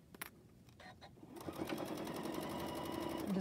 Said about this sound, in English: I'm just gonna sew this seam here so you can see how it looks.